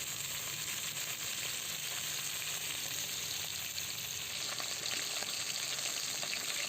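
Marinated fish pieces, salted and coated with turmeric, frying in hot oil in a pan, a steady close sizzle and crackle that runs continuously without pause.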